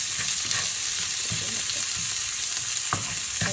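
Bean sprouts and tofu sautéing in a pan with onion, a loud steady frying hiss close by, with soft stirring scrapes and knocks scattered through it.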